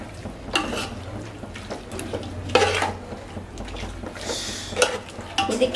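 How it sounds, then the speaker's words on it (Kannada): Biryani masala is stirred in a pot with a metal spoon, producing soft scraping and clinking strokes at an uneven pace. A few louder scrapes against the pot stand out over a low background hum. "ಚೆನ್ನಾಗಿ ಮಿಕ್ಸ್ ಮಾಡೋಣ"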